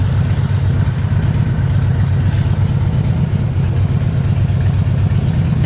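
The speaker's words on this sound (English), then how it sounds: "So again, you have your engine on" A car engine idles with its hood open during engine-bay cleaning, a steady low rumble held at constant loudness throughout, close and alone without talk.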